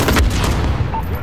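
Rifle gunfire in Call of Duty Modern Warfare, a loud close burst of shots with a heavy low boom at the start, then dense battle noise.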